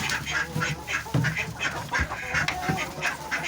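Several ducks quack close by in rapid, overlapping bursts, a noisy farmyard chorus.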